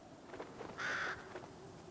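A crow in the video game Fortnite gives a single short, fairly faint caw, with softer game ambience around it.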